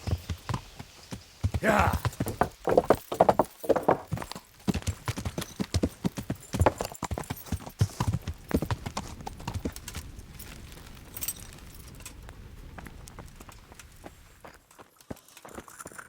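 In the medieval game Kingdom Come: Deliverance, a horse's hooves clip-clop in quick, close steps that loosen and fade as the animal slows, with a brief spoken word at one point.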